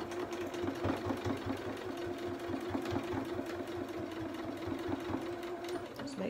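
A domestic sewing machine stitching a seam in fabric for a stuffed rabbit toy's head, running steadily and close with a fast mechanical chatter and rhythmic needle knocks throughout, no talking.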